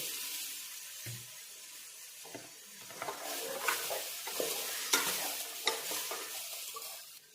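Cut beans sizzle in a pan spiced with garam masala while a spoon stirs them in short scraping strokes. The frying hiss is quiet and steady, broken by sharper clicks as the pieces are turned.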